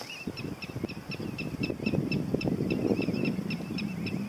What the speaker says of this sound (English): There's been choruses of birds, terns, willets.